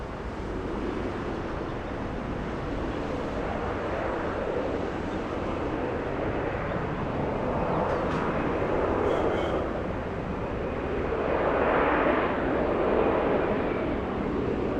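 A Delta airliner takes off at Atlanta Hartsfield-Jackson airport, heard as a sustained broad jet roar that swells toward the end, with no talking.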